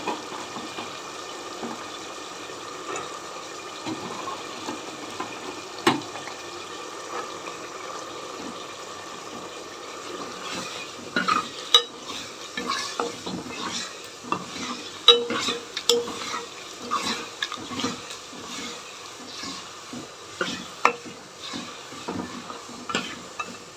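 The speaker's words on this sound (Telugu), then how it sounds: "అలసందలు యాడ్ చేసి బాగా కుక్ అవ్వనిస్తాం." Cowpeas cook and sizzle in a pan of onion gravy, with a soft steady frying hiss under repeated scraping stirs and light clinks of a spoon against the pan, close and fairly quiet.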